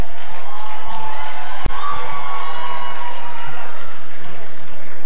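An audience at the Bayelsa Medical University fourth matriculation ceremony applauds in a dense, sustained wash of clapping and crowd noise, loud and steady throughout, with one sharp knock early on.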